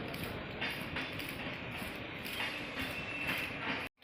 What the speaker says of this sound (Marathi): ट्रेन वर चाललं आहे.